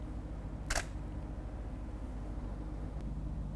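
A single camera shutter snaps once near the start, then a faint second click, under a steady low hum of studio background noise while grabbing a test image under flash lighting.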